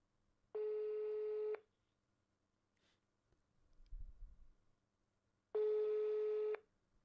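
A phone call placed through the on-off app gives two loud, identical steady ringback tones about a second long, separated by a quiet gap with faint handling noise.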